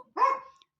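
A single dog bark sounds clearly in the background of a quiet indoor room, with the start of another bark cut off at the end.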